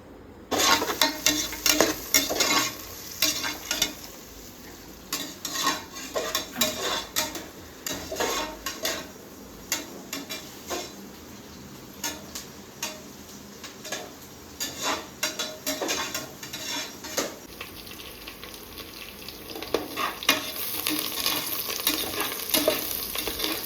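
Onion, tomato and chilli sizzling in hot oil inside a pressure cooker, with steady frying hiss and repeated metallic scrapes and clinks of a spoon stirring against the pot.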